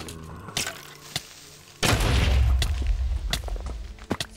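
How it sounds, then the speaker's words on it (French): Explosion in the Minecraft video game, a sudden loud boom with a long rumbling tail, preceded by a few sharp thumps and followed by scattered impacts. "Est-ce que c'est l'explosion depuis là-bas?"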